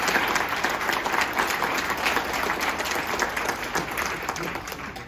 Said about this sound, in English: would you give a round of applause for Gene Hayner?